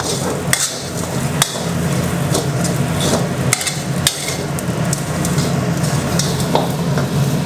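Rice-field rat curry with green peppercorns being stir-fried in a hot pan: a loud, close sizzle punctuated by sharp metallic clanks and scrapes of a spatula against the pan.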